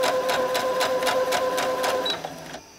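Sewing machine stitching quilt fabric along a quarter-inch line, a steady rapid mechanical whir with regular pulsing stitches that runs close and clear, then slows and stops at the end.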